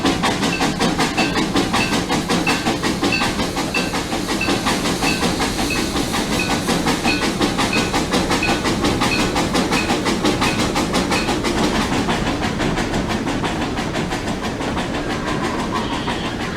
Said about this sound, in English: The 2 engines went up the hill as hard as they can